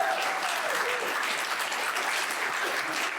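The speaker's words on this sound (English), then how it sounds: "let's give one more round of applause to our presenters" A convention audience gives presenters a round of applause at the close of a recovery-community panel, steady, full clapping from many hands that holds at an even level for the whole stretch.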